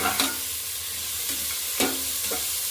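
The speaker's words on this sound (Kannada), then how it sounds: "ಫ್ಲೇಮು ಜೋರಲ್ಲೇ ಇರಲಿ, ಅದರೆಲ್ಲ ಫ್ರೈ ಮಾಡ್ಕೋಬೇಕು." Soya pulao sizzling steadily in a pan over a high flame, with several sharp scraping strokes of a spoon as it is stirred and fried, close and fairly loud.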